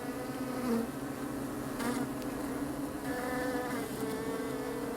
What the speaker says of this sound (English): we were suddenly interrupted by a huge swarm of bees